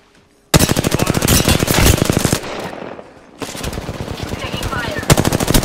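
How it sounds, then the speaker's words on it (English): Automatic gunfire from the video game Fuse rattles in rapid, loud bursts, with a brief lull in the middle before another sustained stream of shots. "Taking fire."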